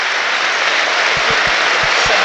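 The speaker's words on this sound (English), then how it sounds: "A minute's applause" Steady, loud applause from a large football stadium crowd at Manchester United v Brighton & Hove Albion fills the whole stretch, a dense wash of clapping with a few low thumps near the end.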